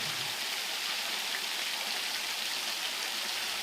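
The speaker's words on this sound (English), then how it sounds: "hence why the waterfall is a mere trickle." Soft, continuous hiss of a small woodland waterfall in Scotland reduced to a trickle, faint and even, with no voices or other sounds breaking through.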